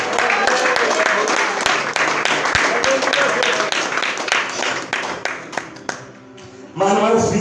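Church congregation clapping and applauding together at a revival service, a loud, dense wash of hand claps that thins toward the end before a voice cuts back in.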